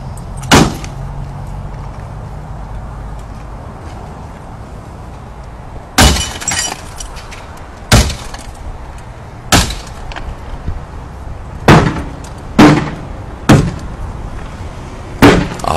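A hammer smashing the glass of a car, sharp loud crashes and shattering impacts striking repeatedly at irregular intervals, some in quick clusters, over a steady outdoor background.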